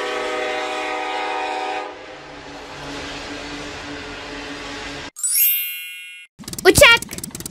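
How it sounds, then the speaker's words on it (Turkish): A train rumbles along with a steady droning horn, then a whistle blows and a bell dings near the end. "Tren."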